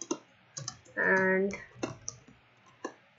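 Light keyboard clicks tap out in short irregular bursts, close and quiet, interrupted by a brief spoken word.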